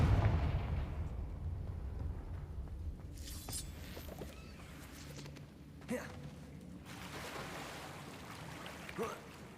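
A fire spell blast from Confringo in Hogwarts Legacy hits with a heavy boom at the start and rolls off into a rumbling, water-like wash. Softer bursts recur later, all fairly quiet overall.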